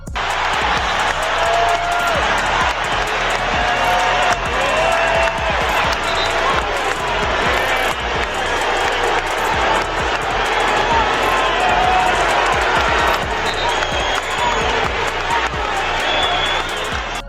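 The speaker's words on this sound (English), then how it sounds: "Fans were cheering, fans were booing" Indiana Fever basketball crowd at Gainbridge Fieldhouse roaring in a loud, unbroken wash of cheering and jeering. The noise stays dense and steady throughout, with scattered claps and voices blended in.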